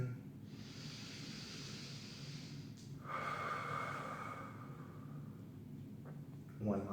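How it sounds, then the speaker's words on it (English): Slow, deep breathing during a yoga headstand practice, with a long airy inhale through the nose followed by a hissing exhale, close and steady, with a faint voice stirring near the end. "Big breath in."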